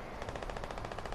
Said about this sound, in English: people will be shooting for no reason, so be sure you're aware of that